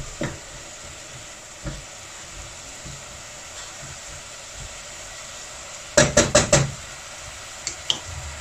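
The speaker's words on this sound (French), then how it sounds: "jusqu'à avoir des oignons un petit peu fondants. Donc on pense à remuer de temps en temps." Onions and peppers softening in a pan, a low continuous sizzle with soft scrapes, then a quick run of four loud knocks from stirring followed by two lighter taps.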